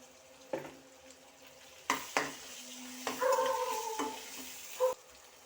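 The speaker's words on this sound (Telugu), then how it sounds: "ఇదిగోండి ఇలా అడుగంటకుండా తిప్పాలండి" A spoon stirs ginger garlic paste with turmeric frying in a pan for egg dum biryani: repeated scraping strokes over a gentle sizzle, close and moderately loud.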